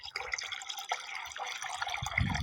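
Water pours and trickles into a plant pot outdoors on a hot day. It makes a close, gentle splashing gurgle that grows fuller toward the end, with no voices.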